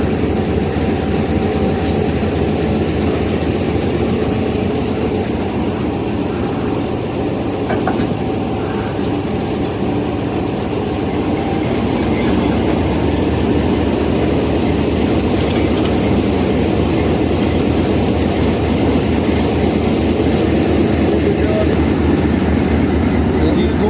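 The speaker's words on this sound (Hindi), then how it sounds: "कोयटा शेड का RG20 5104 as a banker attach हो रहा है 40 डाउन जाफर एक्सप्रेस में" Pakistan Railways RG20 locomotive 5104 of the Quetta shed coupling as a banker onto the 40 Down Jaffer Express, heard as a steady loud rumble of idling diesel and rail noise with faint squeals and clanks throughout.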